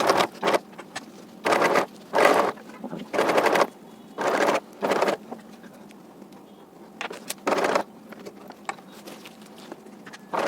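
Sewing machine stitching fabric slowly along a straight line for reverse facings, heard as several short bursts of whirring with pauses between runs, close and moderately loud with no talking.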